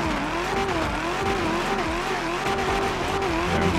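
A car in GTA 5 spins a donut, its engine revving in wavering pitch while the tires squeal continuously over a low rumble of the drivetrain; a voice speaks briefly underneath.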